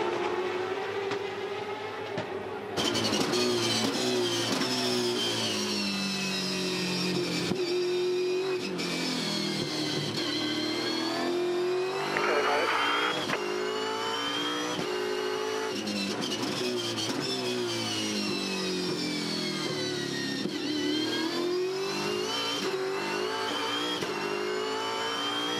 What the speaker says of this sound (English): You're riding with David Reynolds, the Bottle Ford, car 55